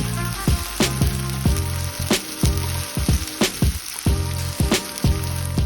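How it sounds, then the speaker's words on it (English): Ginger garlic paste and capsicum sizzle hard in a pan over high heat for egg fried rice, a steady loud frying hiss broken by a regular series of sharp knocks as a utensil strikes the pan. "It's only going to take a few seconds for the ginger garlic to cook as the heat is on high"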